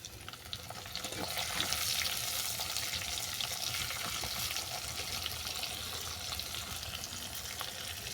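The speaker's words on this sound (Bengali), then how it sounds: "দিয়ে দিলাম কুচানো পেঁয়াজ" Chopped onion sizzles and fries in hot oil in a pan, a steady, dense hiss that swells after the first second and holds close and even, with faint stirring underneath and no voices.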